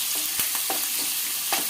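Bitter gourd curry fries in a pan with a steady broadband sizzle, broken by several sharp scrapes of a spatula stirring the pieces as they brown.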